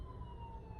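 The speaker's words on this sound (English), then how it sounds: "Great freaking ambulance." An ambulance siren wails steadily in the distance, faint and continuous with a low background rumble.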